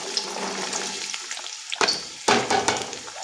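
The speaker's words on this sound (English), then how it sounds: "Our palm oil has been on heat and it's time to go in with my onions" Onions drop into hot palm oil with a steady watery sizzle and frying crackle. Two sharp bursts of spitting and hissing come near the end, as if more onions hit the oil.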